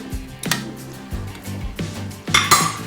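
A spoon being grabbed, with several bright metallic clinks and clatters of cutlery and dishes in quick succession, close by.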